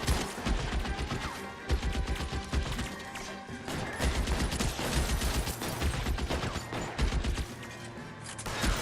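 Gunfire in a shootout in the video game L.A. Noire, a dense, loud barrage of shots and crashing impacts continuing throughout without talk.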